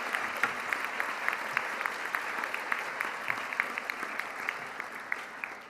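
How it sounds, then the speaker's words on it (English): Sustained applause from a large crowd at a university commencement ceremony, dense and steady clapping with crisp individual claps standing out, continuing throughout. "Let's give a round of applause to the people who got up early to get here today."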